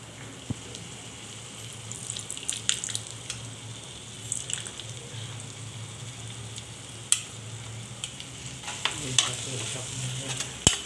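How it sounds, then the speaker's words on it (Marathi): Lemon juice goes into chicken cooking in a pan on the stove, with steady sizzling and frying and occasional sharp clinks and stirring scrapes, close by and with no talking. "आता आपण लिंबाचा रस टाकायचा."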